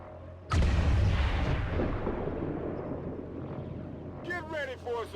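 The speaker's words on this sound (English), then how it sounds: "What are the odds we can destroy that stump with a single grenade?" Grenade blast in the turn-based game XCOM 2, one sudden loud boom followed by a long rumbling decay, with brief voice chatter near the end.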